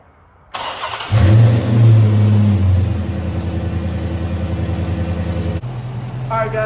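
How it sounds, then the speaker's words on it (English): A Chevrolet Corvette engine cranks and fires after an oil and coolant refill, a brief loud revving surge that settles into a steady, close idle. "car is running"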